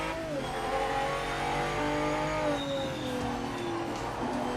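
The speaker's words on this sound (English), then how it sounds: "I like the tyre brake squeal" Racing car tyres in the PMR sim racing game squealing under heavy braking, long wavering high-pitched tones sliding downward over a steady engine drone, continuous and fairly close.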